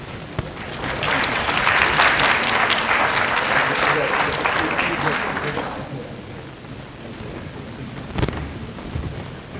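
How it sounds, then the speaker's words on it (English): An audience applauds after a public address, a full burst of clapping that swells near the start, holds for several seconds, then thins and fades, with scattered faint voices afterward. "Let's give him another round of applause."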